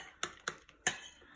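A spoon stirring blue food colouring into a bowl to turn it violet for a galaxy birthday cake, heard as four sharp, close clinks at uneven intervals with quiet gaps between.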